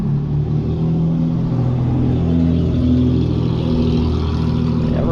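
A loud car engine rumbles and revs on a street in a Mexican fishing town, a steady, close, low growl that holds with slight rises in pitch throughout.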